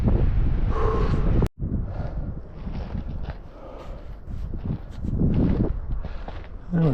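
Loud, buffeting wind roars into the microphone throughout, with gusts rising and falling and a brief dropout partway through.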